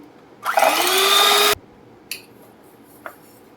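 An electric mixer beats powdered sugar into banana cake batter in a single loud, whirring burst of about a second that stops abruptly, followed by a couple of faint clicks.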